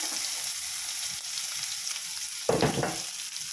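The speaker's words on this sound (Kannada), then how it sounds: "ಎಣ್ಣೆ ಕಾಯ್ದ ಮೇಲೆ ನಾನು ಇಲ್ಲೊಂದು ಮೂರು ಸಣ್ಣ ಸಣ್ಣದಾಗಿ ಈರುಳ್ಳಿ ಕಟ್ ಮಾಡಿದ್ದೀನಿ ಸೊ ಈರುಳ್ಳಿ ಹಾಕೋಣ" Finely chopped onions tipped into hot oil in a pan set off a loud, sudden burst of sizzling partway through, over a steady frying hiss.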